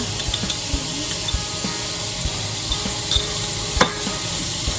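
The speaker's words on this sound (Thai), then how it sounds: "ผัดทุกอย่างให้เข้ากันไม่ต้องใส่น้ำมันพืชไปแค่ช้อนโต๊ะ เดียวนะคะ" Chopped taco filling stir-fried in a pan with just a tablespoon of vegetable oil, a loud, even sizzle close up with scattered spatula taps and scrapes, no voices.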